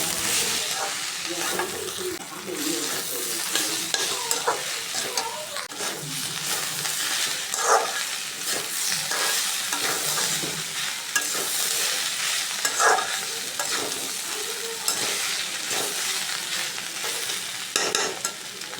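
Bitter gourd and potatoes frying with turmeric and chili powder, a long stretch of steady sizzling with regular spatula scrapes and clinks, close and moderately loud.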